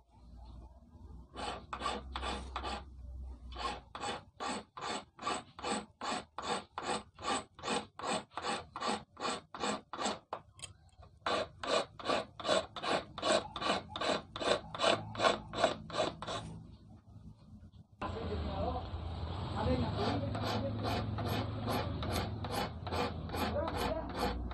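Rhythmic rasping strokes as a steel grinding disc is scraped down by hand into an eel fishing hook, steady back-and-forth bursts in two long runs, close and fairly loud, then a denser grinding texture at the end.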